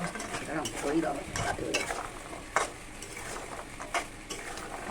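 Katkati sweets made with sugar syrup being stirred in a pan, with repeated scraping and clinking of a utensil against metal over a soft bubbling sizzle, close and steady with occasional sharper knocks.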